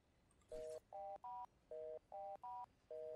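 Telephone keypad dialing in the video game Do Not Feed The Monkeys: seven crisp touch-tone beeps in a quick, even sequence after a brief click, clear and isolated against a quiet background.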